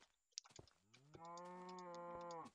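A Minecraft cow gives one long, drawn-out moo, loud and close, with a few short clicks and taps just before it.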